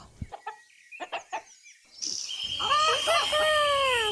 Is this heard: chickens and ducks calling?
yes